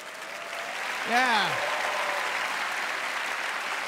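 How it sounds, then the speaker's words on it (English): Steady applause from a comedy-festival audience in Winnipeg fills the room, with a brief spoken interjection over it early on. "A big round of applause."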